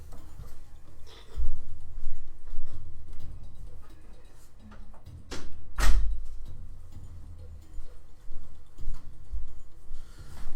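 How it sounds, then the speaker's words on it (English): A door shuts indoors with one sharp, loud thud, preceded by soft shuffling and handling noises and followed by quiet room sounds. "close the door real quick."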